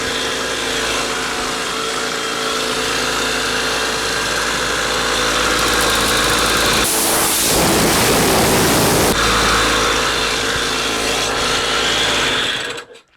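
A home-converted 12 volt air compressor, drilled and tapped and stripped of its end fan, runs loudly and steadily at close range, with a harsher hissing rush in the middle before the motor cuts off at the end.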